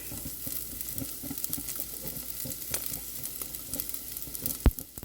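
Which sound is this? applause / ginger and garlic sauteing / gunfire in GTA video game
ginger and garlic sauteing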